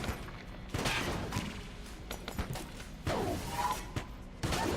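Gunfire from Enter the Gungeon as enemies like blue gunners are shot down, bursts of several sharp shots followed by pauses, accompanied by dull thumps and whooshes, fairly quiet in the game mix.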